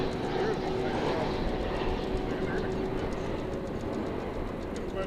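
A large cargo jet taxiing into a UPS parking spot at DFW Airport on a sunny afternoon, a steady broadband engine rumble and whine that holds constant throughout, moderately distant, with a person talking over it.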